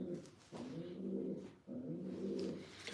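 Racing pigeons coo in low, throaty, repeated phrases close by, the soft burbling calls overlapping with brief pauses between them.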